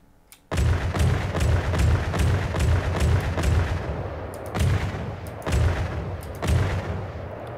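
A 100 to 106.9 mm advanced cannon in the naval combat game From The Depths fires about eight loud, booming shots in an uneven rhythm, each ending in a long, heavy echo.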